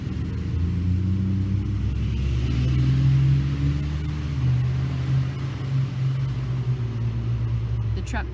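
Heavy trucks rumble past in a steady, loud low drone that swells and fades, with a brief hiss near the end that could be an air brake; no one speaks.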